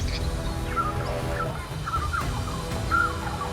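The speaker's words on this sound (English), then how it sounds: "Drop a rainbow if you've ever been woken up by a rainbow screaming outside your window." Rainbow lorikeet in the Australian bush giving harsh, raspy screeching calls, several shrill bursts over about three seconds against a dense, steady background, loud and fairly close.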